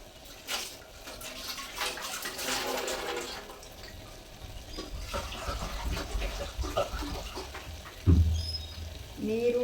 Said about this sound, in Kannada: ಇವಾಗ ನಾನು ಏನು ಅಕ್ಕಿ ತೊಗೊಂಡಿದ್ದೀನಲ್ಲ ಅದ್ರಲ್ಲಿ ಡಬ್ಬಲಷ್ಟು ನೀರು ಹಾಕ್ತಾಯಿದ್ದೀನಿ